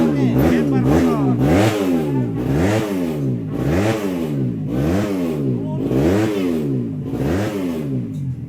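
A motorcycle engine on the Lakipadada road race circuit in Rantetayo revs hard over and over, about seven loud rising-and-falling sweeps in a steady rhythm, close by.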